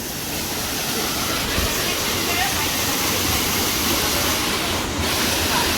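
Chander waterfall in Malvan, Konkan, roars in a dense, unbroken rush of water that stays loud and even from start to finish.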